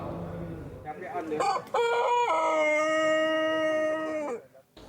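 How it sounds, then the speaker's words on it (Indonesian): A pelung rooster, kept in a house yard, lets out one long, loud, drawn-out crow that rises, then holds a steady tone for several seconds before cutting off, heard close and alone. "Kokok panjang ayam pelung terdengar dari salah siko halaman rumah"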